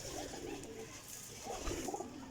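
Pigeon cooing from a prized golden pigeon, soft and low, blended with continuous background noise, with no talking.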